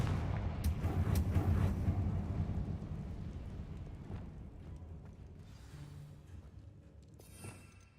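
The Confringo blasting spell goes off in a wizard video game: a loud booming crack that rumbles and slowly fades into a lingering, crackling echo.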